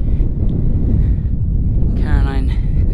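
Wind buffets a sailboat lying at anchor in Chatham Bay on a gusty morning, a loud continuous low roar with rumbling gusts.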